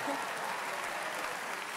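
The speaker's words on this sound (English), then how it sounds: "Yeah, you can clap." Audience applause at a university convocation gathering, a steady dense wash of clapping heard throughout the short moment, at moderate distance.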